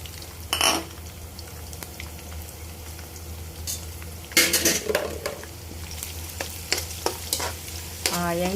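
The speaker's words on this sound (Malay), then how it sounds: "Goreng sekejap sampai dia rasa masak sudah." Anchovies frying briefly in a pan for sambal tumis, a steady close sizzle broken by a few clinks and scrapes of a utensil stirring against the pan, with no talking.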